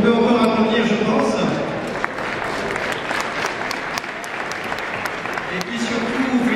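Continuous clapping from a large audience honoring Grand Prix winners at an agricultural high school trophy event at a farm show, a thick steady patter with brief voices and crowd murmur underneath.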